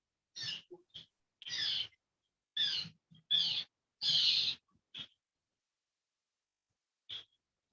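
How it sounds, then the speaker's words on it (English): Birds calling as heard over a phone line, with short bright bursts of chirps and hoots that come in uneven clusters with silent gaps between them, thin and moderately loud. "Oh, you can really hear those birds."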